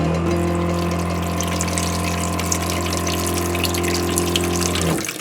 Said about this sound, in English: the on-demand pump will kick in.